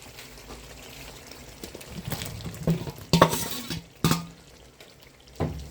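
Tomato and capsicum stirred into frying eggs in gravy in a pan: scraping stirs and a soft sizzle, with a few louder clunks of the utensil against the pan, close up.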